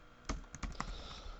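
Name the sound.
typing on a computer keyboard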